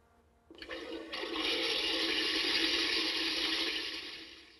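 A flushing sound is played by a Japanese device made by Toto that imitates a toilet flush. It rises abruptly as a close, steady rushing wash, holds at full strength for several seconds, then begins to fade.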